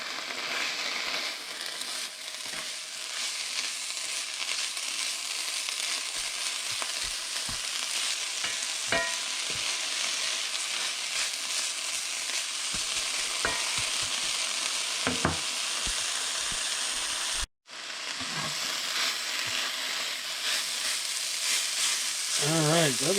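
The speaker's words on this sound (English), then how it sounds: "yellowfoot chanterelle mushrooms from last year. And we're just going to saute this up." Yellowfoot chanterelle and black trumpet mushrooms sauté in a pan with a continuous soft sizzle, punctuated by scattered utensil clicks and stirring scrapes and one brief dropout near the end.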